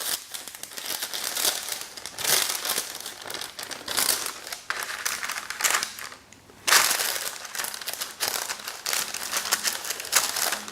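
Baking paper crinkles and crumples loudly and close by as it is pressed and folded into a baking tray for pastry, in irregular bursts with brief pauses between handlings.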